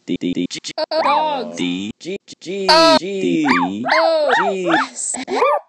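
Dogs barking and yipping in quick bursts, close and loud, with whining, howl-like cries rising and falling between the barks.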